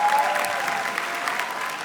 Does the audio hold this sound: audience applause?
yes